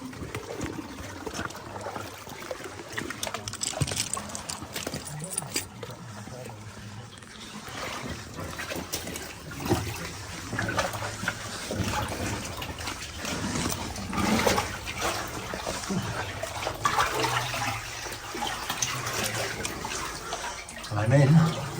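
Someone wading into deep water inside a flooded mine, with sloshing, splashing and trickling that echo in the enclosed space, while people talk intermittently over it.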